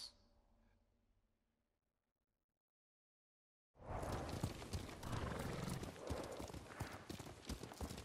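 A horse gallops in the video game Ghost of Tsushima: after a faint stretch and near silence, loud, rapid hoofbeats pound out in a continuous rhythm at close range.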